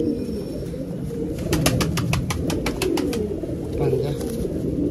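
Lalduma, kalduma and kashmaduma pigeons, including a hen, coo softly in a home loft, low murmuring calls running under a burst of rapid clicking or fluttering while a person talks.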